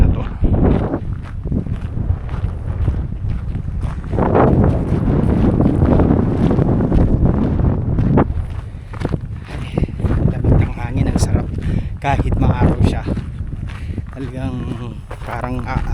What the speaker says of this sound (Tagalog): kasi malakas yung hangin